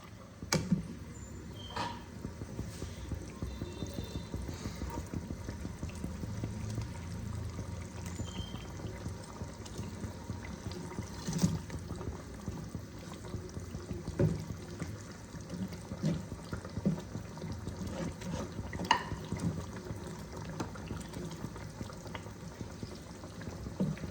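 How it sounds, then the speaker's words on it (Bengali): Fish curry broth for a Bengali rui posto bubbling steadily at a boil as fish are added, with soft liquid burbling and light clinks throughout and no talking. "দেখো ঝোল আমার ফুটে গেছে। এবার আমি মাছগুলোকে ছেড়ে দেব।"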